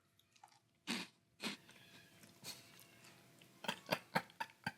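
Great Value limited edition cotton candy cereal puffs being eaten, with loud crunchy bites and chewing in bursts near the mic, a few sharp crunches early and a quicker run of them toward the end.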